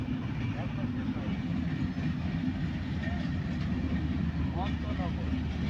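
An intercity train at a station gives a steady, loud, continuous rumble with clattering wheels throughout, and indistinct voices sit faintly under the noise.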